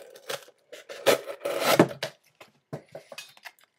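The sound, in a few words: knife cutting a test material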